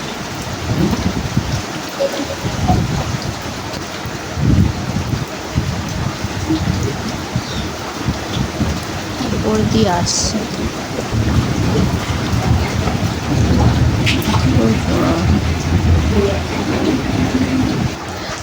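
Steady heavy rain pours down throughout in Kolkata, flooding the area, with low rumbles of thunder rolling underneath and a brief voice speaking partway through.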